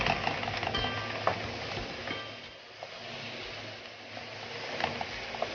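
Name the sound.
minced meat and garlic stirred and frying in a pan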